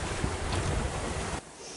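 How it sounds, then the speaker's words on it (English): Fast water rushes past the hull of a sailing catamaran, a loud, dense roar mixed with wind buffeting the microphone that drops off abruptly near the end. "And the water is racing."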